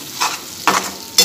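Chili chicken being stirred in a pan over a medium flame, with three short scraping, sizzling strokes spaced apart, close and moderately loud.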